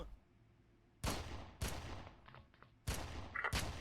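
Bursts of gunfire in the shooter Red Faction, four sharp loud volleys spaced about a second apart, with scattered smaller shots between them and quiet gaps of game ambience.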